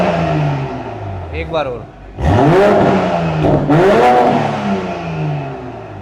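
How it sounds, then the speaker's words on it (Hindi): Luxury electric golf cart's engine revving loudly after a cold start, two rising-and-falling rev sweeps close by, with someone talking briefly before them. "अब थोड़ा सा इसे रैप करके देखते हैं कि क्या एग्जैक्ट साउंड आता है।"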